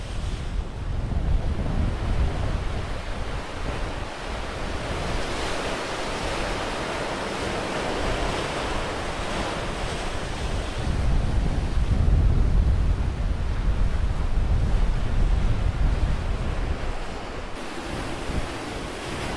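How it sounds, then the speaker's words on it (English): Ferocious ocean waves crash and surge along the rocky Galapagos coast, a loud continuous roar of surf with wind buffeting the microphone, swelling stronger midway, no voices. "the waves are ferocious"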